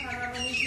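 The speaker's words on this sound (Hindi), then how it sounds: "चिड़िया की बात कितनी जोर जोर से आ रही थी ना" A bird chirps loudly and steadily nearby, a bright continuous tweeting over a soft background hum.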